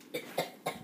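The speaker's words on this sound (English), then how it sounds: "Oh, she's coughing." Three quick, sharp coughs sound close by, evenly spaced in under a second.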